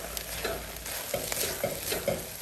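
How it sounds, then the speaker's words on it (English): Onions being stirred in a Staub La Cocotte 5.5-quart pot, a spoon scraping and pushing softly through the sizzling onions in steady, repeated strokes with a low frying hiss underneath. "Keep stirring."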